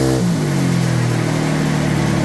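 Remapped motorcycle engine running on a dyno, a loud, steady high-rev drone with a rising pitch at the start and then holding full throttle, no voices.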